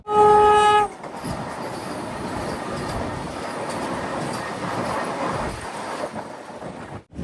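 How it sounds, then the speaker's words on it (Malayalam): The Vivek Express (Dibrugarh to Kanniyakumari) pulls into Thrissur railway station, opening with a loud, steady horn blast, then a continuous close rumble and rattle of wagons rolling along the track. "നാല് 14 ട്രെയിൻ ഇപ്പോൾ തൃശ്ശൂർ റെയിൽവേ സ്റ്റേഷനിലേക്ക് എത്തുകയാണ്."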